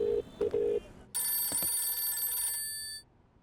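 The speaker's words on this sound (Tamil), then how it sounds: "இதோ ரிங் போய்கிட்டு இருக்கு சார்." A telephone rings in a Tamil film scene, starting with a few short electronic tones and then a longer, bright bell-like ring that fades out.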